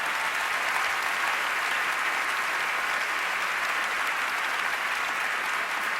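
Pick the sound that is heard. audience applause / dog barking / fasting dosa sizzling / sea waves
audience applause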